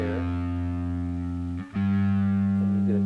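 A bass guitar plays through a GR Bass Pure Drive distortion pedal, a sustained gritty low note that cuts off briefly and is struck again, loud and alone.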